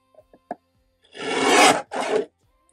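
A paper trimmer slices through cardstock being cut to size for handmade cards: a few light taps, then a loud, steady rasping stroke of about a second, a short pause, and a second shorter cut, close up with no talking.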